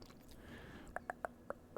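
Several small Crunch chocolate bars bitten and chewed close up, with a handful of crisp, separate crunches in a slow uneven rhythm after a quieter opening.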